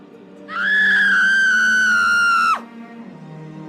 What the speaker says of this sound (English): Where did I hear that scream from?